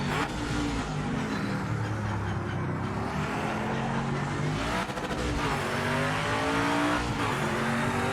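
Race car engine in Project Motor Racing, an older-class car, revving and accelerating loudly and continuously with rising and falling pitch sweeps, some tire squeal and skidding mixed in, no talking.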